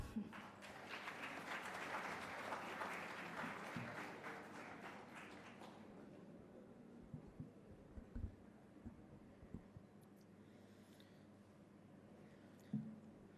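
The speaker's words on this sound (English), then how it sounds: "Please clap." Audience clapping at a university stage event for a cycle design challenge finale, a fairly quiet crowd applause for the first six seconds that dies away into a hushed room with occasional scattered knocks.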